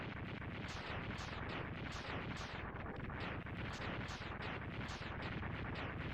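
Mega Man X2 game explosions burst in a rapid, repeating series of loud, crunchy blasts. They run steadily without pause from start to finish.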